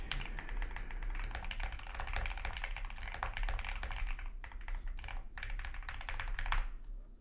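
Fingers type rapidly on a computer keyboard, a dense, close run of clicking keystrokes with a few brief pauses, no talking.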